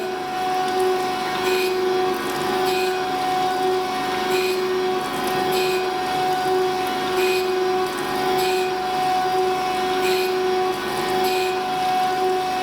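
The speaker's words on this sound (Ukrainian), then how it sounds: "Отак от шліфуємо." Steady machine whine with a constant tonal hum and a faint periodic swishing repeating about once a second as the taper of a HAAS spindle is ground, continuous and close, no talking.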